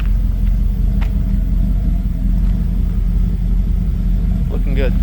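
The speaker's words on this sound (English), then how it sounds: "A little exhaust note here at the end." A 1989 Pontiac Trans Am GTA idles with a steady, loud low rumble from its exhaust, close by and continuous with no talking over it.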